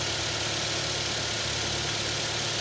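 A Toyota pickup truck engine idles in a steady, even drone throughout, fairly close and with no one talking.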